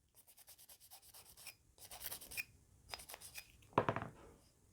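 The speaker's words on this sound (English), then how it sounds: "Do a little more scrubbing." A brush scrubs a dirty, stiff Smith and Wesson revolver cylinder soaked in Ballistol, close up, in quick rhythmic strokes with short pauses and a harder burst of scrubbing near the end.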